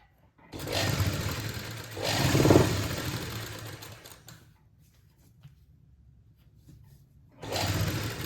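A sewing machine whirs close by in two runs, a long one of about four seconds and a shorter one near the end, stitching a straight seam to attach a lace neckline along a shirt crease.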